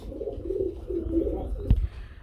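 Helmet pigeons at a pigeon sale give a soft, low cooing call, a few murmuring coos close by, followed by a brief thump.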